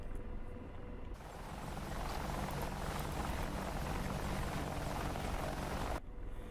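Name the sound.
Apache helicopter rotor in DCS video game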